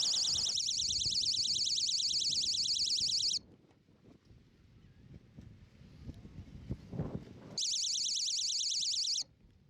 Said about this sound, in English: This is a high tide alarm. It works off a float switch.